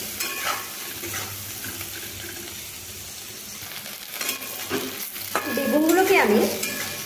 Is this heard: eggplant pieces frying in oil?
yes